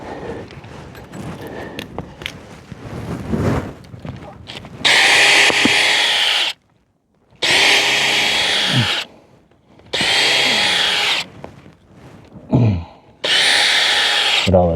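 A power drill bores a 1.5 to 2 inch tap hole into a tree trunk, the loud whining bursts repeating four times with short pauses for clearing wood shavings, plus rustling and handling noise at close range.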